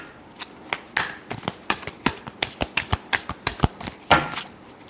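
Tarot cards are shuffled in a run of crisp, rapid riffling bursts and slaps, a dozen or more close snaps in uneven rhythm, loud and near with no talking.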